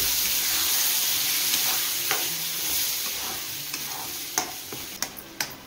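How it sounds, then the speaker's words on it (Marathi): Tomato paste with ground cashew is sautéed and stirred in a hot pan, giving a steady close sizzle that fades slightly, while a utensil scrapes and taps the pan several times near the end. "ही याची टमाटाची पेस्ट केलेली आहे काजूची गिरवी ती टाकू आणि याला चांगलं परतून घेऊ"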